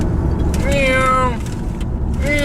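A man imitates a cat, giving a drawn-out meow followed by a shorter one inside a moving car, with engine rumble underneath.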